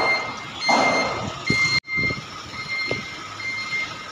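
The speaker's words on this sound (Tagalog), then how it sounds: "Ang daming sasakyan dito sa pier mga idol." A truck's reversing beeps repeat steadily amid the low rumble of vehicles at a busy port pier, moderately distant, with engine and traffic noise underneath.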